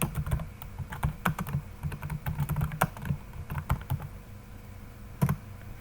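Typing on a computer keyboard while entering text in a Microsoft Excel salary slip, with quick bursts of close key clicks, short pauses between them and a final lone keystroke, and no talking.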